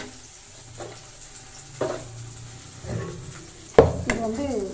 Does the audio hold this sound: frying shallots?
yes